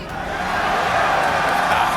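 A boxing crowd roars back in answer to a fighter's question after a Teofimo Lopez vs Josh Taylor bout, a sustained, dense wall of shouting and whooping that builds slightly and holds loud for two seconds.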